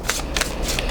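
A deck of tarot cards is shuffled in several quick riffling bursts, close and crisp, with no voices over it.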